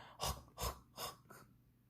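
A voice imitates heavy panting as if training for a marathon, four quick, loud breathy gasps in a row, close and with nothing else under them.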